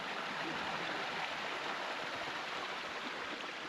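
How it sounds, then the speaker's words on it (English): A partly frozen waterfall at Jackson Falls rushes steadily, a broad, continuous hiss of falling water heard up close with no voices. "Here's a frozen but not frozen waterfall."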